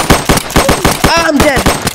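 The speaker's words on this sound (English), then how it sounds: "They're shooting at us." Rapid automatic gunfire in a Roblox roleplay game, a loud, steady burst of closely spaced shots at close range, with a voice talking briefly over the firing.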